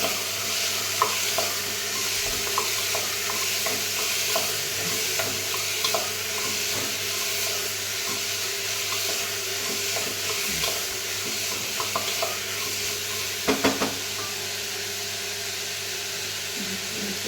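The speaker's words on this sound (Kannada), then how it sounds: "ಒಂದು ಬೌಲ್ ಕ್ಯಾರೆಟು, ಎಲ್ಲ ಫ್ರೈ ಮಾಡೋಣ." Carrots, beans and other vegetables for a vegetable kurma fry in a pan with a continuous close sizzle, broken by occasional clinks and scrapes of a spoon stirring, no one speaking.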